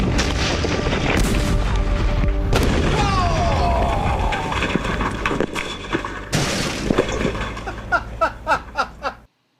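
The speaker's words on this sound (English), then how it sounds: "when the hot water heater finally blows" A hot water heater bursts with a deep, guttural thud and roaring blast, followed by crashing debris and a series of decaying booming echoes, loud and close, with faint laughter behind.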